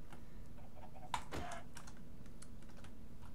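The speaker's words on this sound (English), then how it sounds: "It is a freaking wireless keyboard" Typing on a wireless computer keyboard during a Minecraft session, a steady patter of keystrokes over a low constant hum, with one brief louder clack partway through and no talk.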